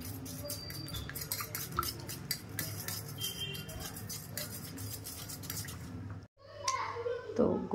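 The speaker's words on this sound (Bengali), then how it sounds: "আমি এর মধ্যে মিশিয়ে দিচ্ছি কিছুটা কনডেন্স মিল্ক" A spoon stirs condensed milk into pitha batter in a bowl, making quick rhythmic clinks and scrapes for several seconds with a faint voice in the background, then a brief pause and a few louder knocks.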